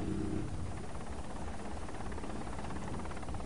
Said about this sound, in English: The lookout in the raft has heard the rotor noise of the helicopter